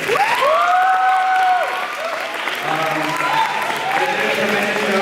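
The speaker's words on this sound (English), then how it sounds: "And one more round of applause for these beautiful people up here" An audience at a panel event bursts into loud, continuous clapping for the people on stage, steady throughout with voices and light cheering mixed in.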